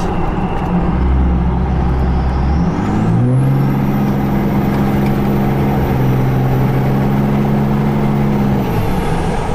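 A Cummins 12-valve diesel pickup truck on a race tune makes a hard pull, its engine droning loud and close as the pitch steps up and holds steady with a high whine before easing off.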